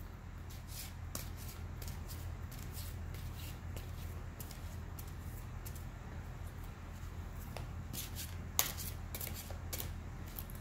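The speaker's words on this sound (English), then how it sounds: "I'm going to go ahead and get our cards shuffled" Tarot cards being shuffled in soft, quick riffles repeating over and over, quiet and close, with no talking.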